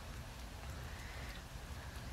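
Rain falls steadily at a carp fishing lake, a soft, even patter of drops with no voices.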